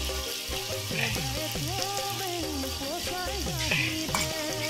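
Duck meat frying in a pan with ash gourd and potato, a steady sizzle with stirring scrapes running throughout, close and moderately loud.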